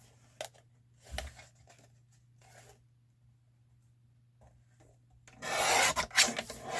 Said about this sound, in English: I'm going to just slide this in and cut the sticky part off